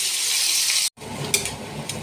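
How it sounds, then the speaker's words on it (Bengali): Pumpkin pieces coated in turmeric and salt fry in hot oil with a bright, continuous sizzle that cuts off abruptly, then resumes more softly with a few sharp spatters and clinks. "হলুদ নুন মাখানো কুমড়োগুলো লাল করে ভেজে নেব।"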